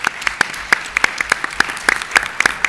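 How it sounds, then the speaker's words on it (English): A small audience at a science engagement meeting claps, with sparse, distinct handclaps in an uneven patter that stays moderately loud and close throughout, and no voices. "one last round of applause for all of you and for all of our great panelists"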